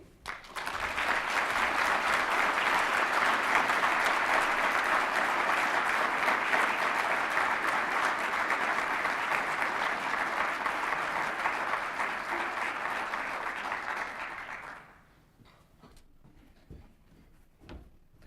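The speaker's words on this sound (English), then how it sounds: "One more round of applause." A large conference audience at the NACTO 2017 morning plenary claps in a loud, even roar for about fourteen seconds, then stops abruptly, leaving a quiet room with a few scattered sounds.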